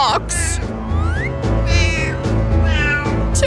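Kittens meow close by, again and again, with high, rising and falling cries that overlap one another across the whole stretch.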